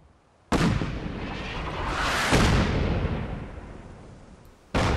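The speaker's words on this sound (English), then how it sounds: "I don't know when this artillery strike's going to happen." Artillery strikes land in Fallout 4, with a sudden loud blast rolling into a long rumbling roar, a second heavy impact midway, and another sharp boom at the very end.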